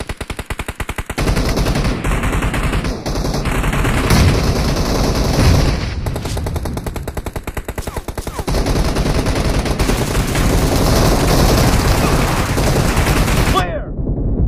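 Rapid automatic fire from an M762 rifle in the mobile game PUBG Mobile: loud, sustained bursts that roll on almost without a break, with a short lull partway through before firing resumes and then cuts off abruptly at the end.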